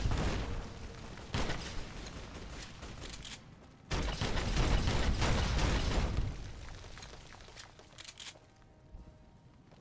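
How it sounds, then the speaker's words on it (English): A Boomers' bomber carpet bombing in Fallout New Vegas, rolling bursts of distant blasts and rumbling impacts that come in waves, swelling loudest midway and then thinning out toward the end. "I think we get to see the boomers fucking carpet bomb somebody."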